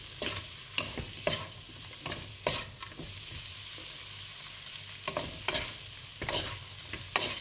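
Shrimp sautéing in garlic butter in a pan, with a steady close sizzle and repeated scraping stirs of a utensil at an uneven rhythm, loud and with no talking.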